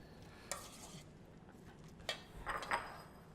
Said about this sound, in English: Let's stir that back in